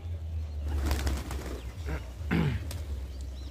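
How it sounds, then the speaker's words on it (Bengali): Pigeons on a rooftop coo in low, soft, repeated calls while rice is scattered for them, with faint rustles and a little wing movement. "একে একে সব পায়রাগুলো আসছে"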